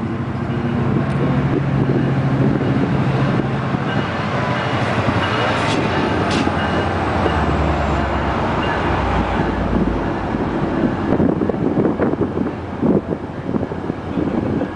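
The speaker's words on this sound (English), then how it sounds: "let's take another look at the railroad and commuter rail line that's in Albuquerque leaving the Alvarado" A New Mexico Rail Runner commuter train pulls out of Alvarado station in Albuquerque, a continuous rumbling roar mixed with heavy wind buffeting on the microphone and a couple of brief high tones partway through.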